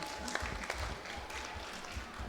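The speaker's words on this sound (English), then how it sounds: "Please give them a big round of applause" An audience at a junior maths competition applauds the judges, a continuous, fairly quiet patter of clapping heard from the hall without voices over it.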